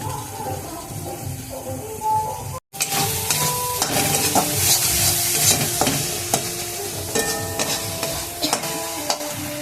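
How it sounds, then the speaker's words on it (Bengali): Mashed banana flower with spices being sautéed in a pan for a Bengali vegetarian dish, with a continuous close sizzle and frequent spoon scraping and stirring clatter after a brief quieter start. "সামান্য জল দিয়ে কষাতে হবে, নাহলে মশলাগুলো তলায় একটু ধরা ধরা হয়ে যায়।"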